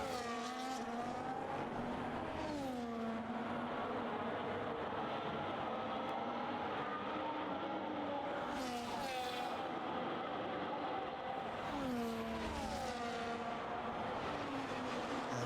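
Ferrari and McLaren race cars in a race, their engines droning close by and rising and falling in pitch through repeated gear changes, with several upshift sweeps as they accelerate past.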